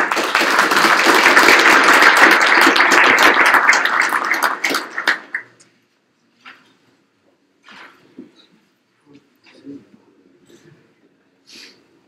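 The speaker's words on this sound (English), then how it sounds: "perhaps you join with me in giving them a round of applause for the contribution" Audience members at a live-streamed event applaud their speakers in a full burst of clapping that tapers off after about five seconds, leaving a quiet room with only scattered faint shuffles and taps.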